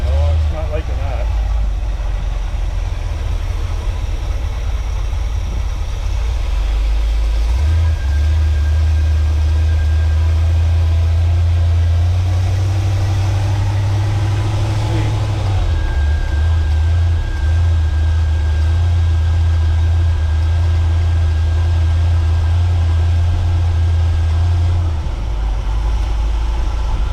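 A 1979 GMC Vandura G25 van's low-compression engine idles with a steady low rumble for the whole stretch, its pitch shifting slightly as the running changes partway through.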